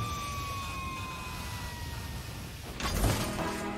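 A Grizzly Pumper Rescue fire engine sounds its siren, a steady wailing tone that slowly falls in pitch over a rumbling background, followed by a louder burst of noise near the end.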